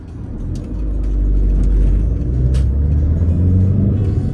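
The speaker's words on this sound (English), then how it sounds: "2-litre diesel engine." A 2007 Audi A3 S-Line with a 2-litre diesel engine pulls away in first gear, its low rumble swelling and holding strong and close, with no talking.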